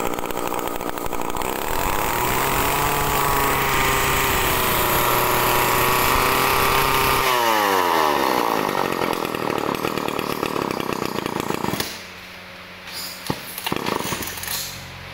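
A Japanese Komatsu G35 35cc chainsaw runs loud and close at high revs, then winds down with a falling engine pitch, settles to a rough idle and sputters out near the end.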